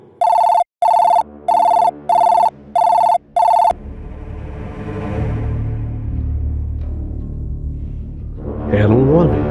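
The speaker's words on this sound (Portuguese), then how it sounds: "eis que meu telefone tocou" A telephone rings six times in short, even bursts, loud and close, then stops as a low rumbling background with indistinct talk takes over.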